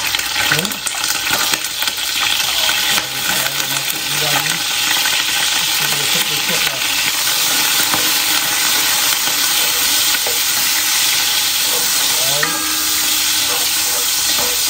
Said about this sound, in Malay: Kita goreng udang kita.